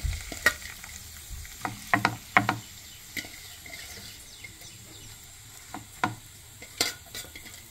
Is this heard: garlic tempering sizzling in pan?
yes